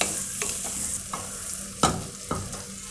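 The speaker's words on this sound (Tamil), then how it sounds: "ஒரு 2 நிமிஷம் இந்த பட்டாணியை வதக்கிப்போம்." Green peas with turmeric sauté in a hot pan with a steady sizzle, while a spoon stirs and scrapes the pan every so often, close and moderately loud, with no talking.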